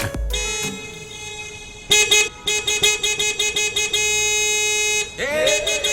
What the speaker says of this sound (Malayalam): ട്രാഫിക് ജാമിൽ ഇങ്ങനെ ഹോൺ അടിക്കാൻ പാടില്ല